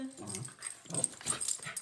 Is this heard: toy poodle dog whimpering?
yes